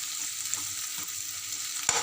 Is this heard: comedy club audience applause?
no